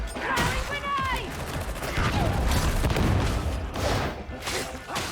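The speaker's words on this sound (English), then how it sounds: "Throwing grenade." A grenade goes off in the Warhammer 40,000: Darktide video game, a dense burst of explosions and gunfire that fills the whole stretch, loud and sustained.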